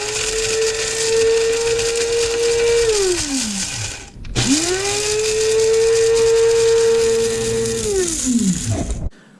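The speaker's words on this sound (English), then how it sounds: "I ground all the peppers up, seeds and all." Spice blender grinding chopped peppers, seeds and all, for a Thai lemon pepper dry rub: two long, loud whirring runs, each winding down in pitch before stopping, with a brief pause between.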